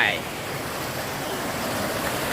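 A waterfall pours steadily in an outdoor nature spot, a dense, continuous rushing roar close by with no break across the short stretch.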